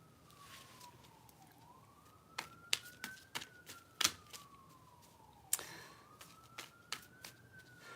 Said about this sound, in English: There's been sirens going for 10 minutes now.